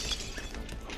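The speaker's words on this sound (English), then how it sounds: "Did I bash all the glass here?" Window glass shattering in the video game Whiplash, a brief, bright burst of breaking and tinkling shards set against game background noise.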